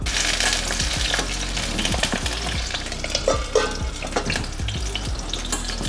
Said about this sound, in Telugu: దానిలోకి కట్ చేసుకున్న పచ్చిమిర్చి వేసేసి మూత పెట్టేసి సిమ్లో కొంచెం అట్లా నెమ్మదిగా ఎగుతాయి